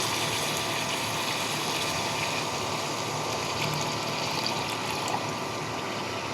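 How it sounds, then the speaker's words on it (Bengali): Water poured into a pan of fried rui fish with spices, cooking for a dopeyaja: a steady, moderately loud rushing hiss of liquid, lasting throughout with no talk. "এ পর্যায়ে আমি পানি দিয়ে দিচ্ছি পানি"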